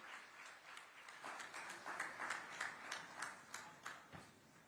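Faint, distant applause from an audience at a state workshop in Raipur welcoming the chief minister, scattered claps with distinct individual hits rising and falling.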